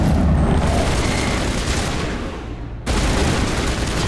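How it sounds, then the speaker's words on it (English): Dense video-game gunfire in Mass Effect, a continuous loud fusillade of overlapping shots that dips briefly and then resumes abruptly at full intensity. "Stop shooting at me, guys."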